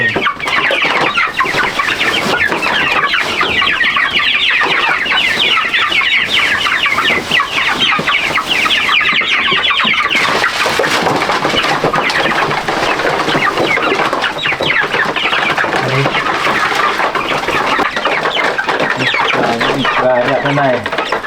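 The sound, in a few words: chickens clucking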